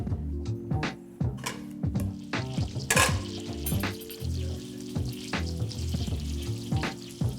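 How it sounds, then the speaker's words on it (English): Butter sizzles and fizzes in a pan over low heat as it browns for a steak, a close, crackling frying sound with occasional clinks and stirring scrapes. "low heat until the butter's brown."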